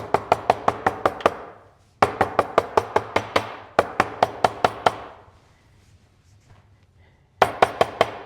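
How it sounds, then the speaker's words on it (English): Sharp, rapid hammer taps down the center of a leather belt in quick bursts of six or seven, with short pauses and a quiet gap between, close and loud, no talking. "So I'll run a hammer down the center."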